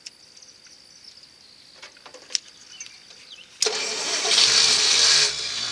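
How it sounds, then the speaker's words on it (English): A Studebaker engine turning over on its first start: a few faint clicks and light cranking sounds, then the engine suddenly catching into a loud, steady running roar close by, with crickets chirping faintly in the background beforehand. "And let's crank it over, get some oil pressure."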